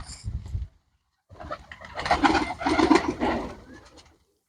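Pigeons of a long-bodied flying breed give soft throaty coos in two bursts, the second longer and fuller, close by with a short gap of silence between.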